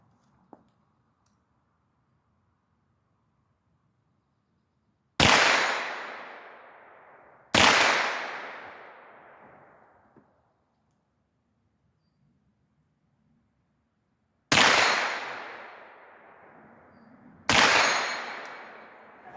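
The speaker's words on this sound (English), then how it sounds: "So I can shoot the steel up close" AR-15 rifle shots fired at steel targets up close outdoors, four loud sharp cracks spaced a few seconds apart, each trailing off in a ringing decay, with near silence between them.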